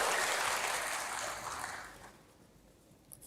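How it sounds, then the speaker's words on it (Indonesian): A church congregation claps and cheers to praise God, the applause loud and dense at first, then thinning and fading away over about two seconds until only faint scattered claps are left. "Yang mau berikan tepuk tangan bagi Tuhan."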